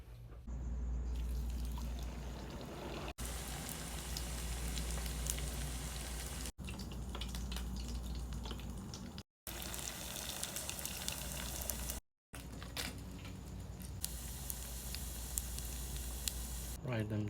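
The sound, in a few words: deep frying crab rangoon wontons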